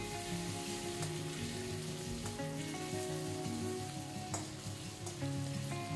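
A cumin and rice mixture fries in a pan for bhuna khichuri, giving a continuous dense sizzle with occasional scraping stirs, close and steady throughout.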